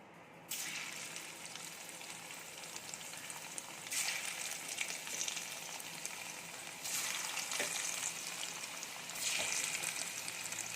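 Paneer cubes dropped one by one into hot oil, a steady bright sizzle that swells in louder bursts as each batch goes in, close up with no talking.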